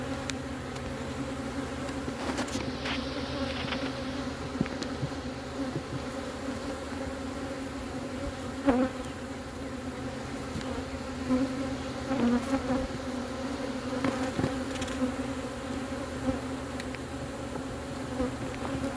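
Dense, steady buzzing of many honeybees inside a hive fills the whole stretch, a close, continuous droning hum with occasional louder passes near the microphone.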